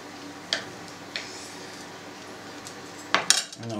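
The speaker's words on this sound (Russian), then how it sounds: "Нарезаю колбаску тоненько-тоненько" A few sharp knife strokes thinly slicing boiled-smoked sausage against a cutting board, spaced apart, then a quick cluster of clicks near the end, close and fairly crisp.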